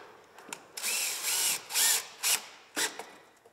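A power screwdriver drives a screw through a small T-shaped cup fitting into pre-drilled holes on a narrowboat top box kit, several short whirring bursts of rising and falling pitch with brief pauses between.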